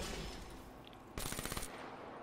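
A BMP gun in Call of Duty Black Ops 3 fires one short, rapid burst of rattling automatic shots, close and clear against a quiet background.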